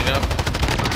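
Light machine gun fire in a first-person shooter video game, a dense rapid burst of shots filling the whole second, loud and close, with no clear talk over it.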